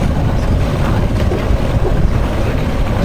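A wooden boat with a curved stem and near double-ender hull passes at a boat show, its smooth, quiet engine a low steady rumble blended with wind buffeting and water wash throughout.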